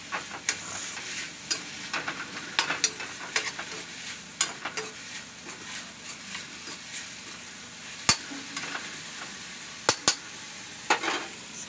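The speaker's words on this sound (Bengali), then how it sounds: "শাক ভাজা হচ্ছে।" Leafy greens (shaak) fry in a pan on a gas stove with a steady low sizzle, broken by frequent sharp taps and scrapes of a spatula stirring.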